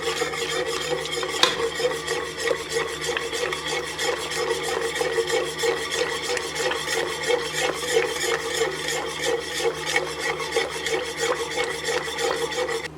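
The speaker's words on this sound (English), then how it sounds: "So just keep stirring and stirring" A spoon scrapes and rubs steadily around a pot of boiling bulls eye candy mixture, a continuous rhythmic rasping stir close up with no talking.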